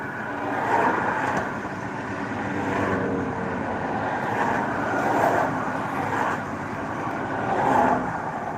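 A car cruising on a highway, a steady broad engine and road roar from inside the vehicle with slow swells in loudness and no speech.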